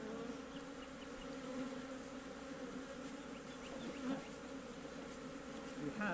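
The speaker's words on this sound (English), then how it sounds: "I don't actually want to squish any of the bees, and as you can see they're already quite excitable." Honey bees buzz around an opened hive during a summer hive check, a dense continuous droning hum of many insects close by, steady throughout with no talking.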